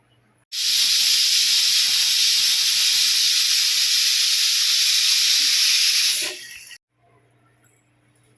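A pressure cooker whistle releases a loud, continuous high-pitched hiss of steam for about six seconds while mutton paya cooks, then cuts off abruptly, leaving quiet.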